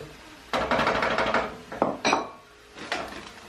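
Red onion goes into a cooking pot with a few short bursts of clattering and scraping, metal utensil knocking against the pot in quick, close taps separated by brief pauses.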